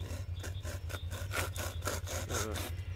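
A homemade frame saw cuts through a small branch in a steady back-and-forth rhythm of about eight rasping strokes, close and alone, over a low hum.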